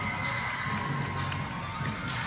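An appreciative crowd at a college gymnastics championship in Carolina cheers and shouts steadily, a broad, sustained roar of many voices heard from within the arena.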